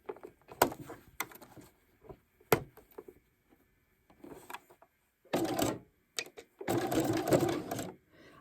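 A sewing machine stitches a scrap-fabric patchwork pouch in short clattering runs, starting with brief stop-start bursts and scattered clicks, then two longer steady passes near the end, close by with no voices.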